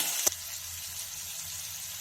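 Cauliflower and peas fry lightly in a pan for cauliflower singara filling, a steady soft sizzle running throughout after one brief sharp tap near the start.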